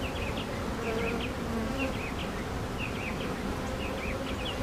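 Honey bees hum steadily inside an open hive, a dense, continuous close-up buzz with no talking.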